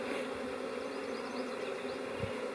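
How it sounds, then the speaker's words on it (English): Several bees circle a beekeeper's head during a swarm catch, a continuous close, wavering drone with individual buzzes passing near and away, and no talking. "I have a couple bees buzzing my head right now"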